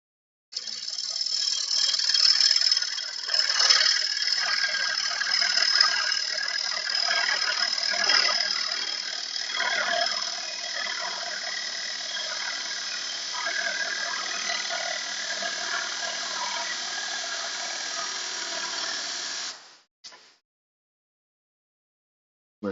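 Wood lathe facing off a coloured bowl blank in a home workshop, a steady ticking, scraping cut that runs for about twenty seconds and then stops abruptly into silence.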